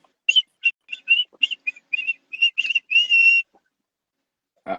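A person whistles a quick tune of short, bright, close notes in a stop-start rhythm, ending on one longer held note, then silence and a brief low sound at the very end; no talking.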